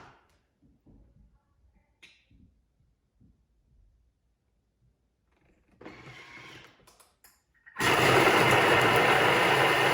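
Thermomix food processor chopping red pepper and tomato for soup. Quiet clicks and bumps come first, then a short whirring burst, and finally a loud, dense, steady chopping roar that runs to the end.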